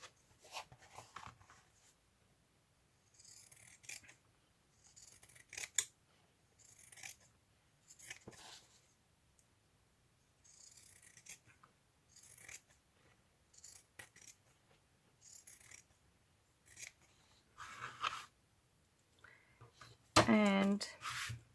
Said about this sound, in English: First I'm going to cut around the borders.